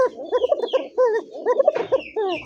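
Close calls of a female pigeon in quick, repeated bursts, soft warbling and clucking notes with brief pauses between them.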